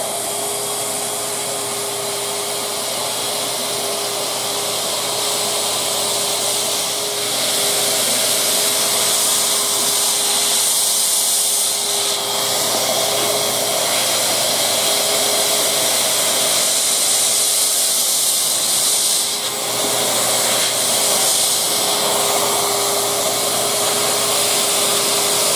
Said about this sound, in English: This is a tack welder with our quick SE, and I've got one set up here, so we're going to do a quick tack weld on it